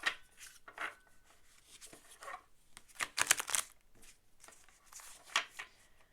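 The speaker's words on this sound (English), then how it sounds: "as I'm shuffling" Tarot cards shuffled by hand during a pick-a-card reading, soft papery riffles and slides in a few short bursts, quiet and close, with no one speaking.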